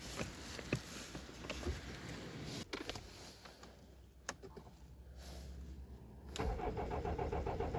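A BMW E46 320d diesel car, a cheap worn example, cold-starting: the starter cranks unevenly for several seconds with clicks and knocks, then the engine catches and settles into a rough, steady idle nearby.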